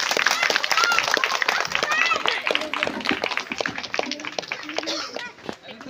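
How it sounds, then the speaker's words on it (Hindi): An audience claps steadily at a New Year's Day 2023 gathering, a dense patter of many hands that thins out toward the end, with voices speaking over it. "ताली ताली"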